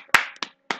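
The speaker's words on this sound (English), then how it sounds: "Just give him a clap," A few sharp hand claps sound close and dry in a podcast setting, three separate slaps with short gaps between them and nothing else around them.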